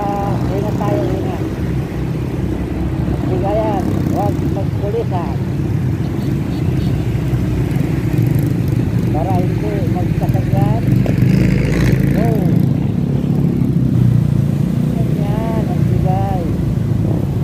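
Motorcycle ride through heavy night traffic from Visayas Avenue to Zabarte. A steady engine drone runs throughout, with surrounding traffic noise, occasional horn-like tones and a rider talking over it.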